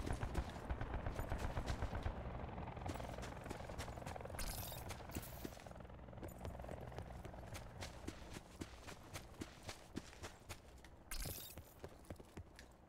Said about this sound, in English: I heard shooting, by the way